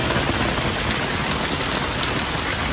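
A steady downpour from a thunderstorm on Cape Cod drums loudly and evenly, a thick wash of close rain that never lets up.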